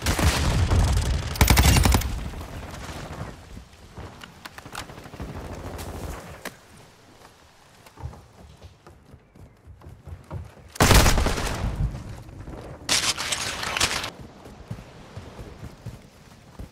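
Video game gunfire in bursts: loud rapid automatic volleys at the start and again near the end, with scattered shots, thuds and background battle noise between, no speech.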